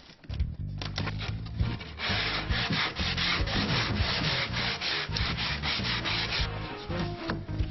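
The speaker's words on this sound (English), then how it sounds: "ready for sanding" Pine tongue-and-groove match lining being sanded with a power sander, a loud steady rubbing drone that runs almost the whole time with brief dips and surges as the tool shifts across the wood.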